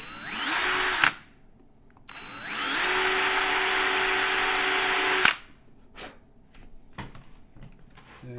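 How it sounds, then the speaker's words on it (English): An electric drill spins up twice to round off a toy truck's axle, whining at a steady high pitch for a few seconds each time, followed by light clicks and handling noises. "And a couple spins of the drill."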